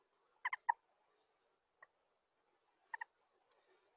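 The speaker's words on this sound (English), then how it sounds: "He's the only toad I've ever had that makes sounds, little sounds." A pet toad gives small sharp clicking chirps, a few isolated faint ticks and double clicks scattered across a quiet background, no voices.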